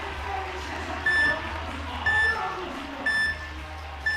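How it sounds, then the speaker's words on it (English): A buzzer at a bouldering competition semi-final sounds four short, evenly spaced beeps about a second apart over a low background hum. "The buzzer beeps down."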